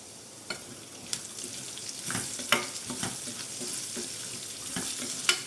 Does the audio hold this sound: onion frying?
yes